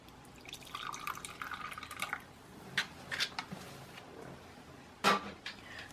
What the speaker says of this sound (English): So I'm going to go ahead and pour in some clean water.